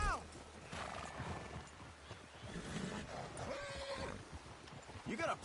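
Horse neighing in the Red Dead Redemption 2 video game on a ridge near a water tower, with hoof clatter and game sounds; whinnies rise through the middle and near the end, mixed under speech.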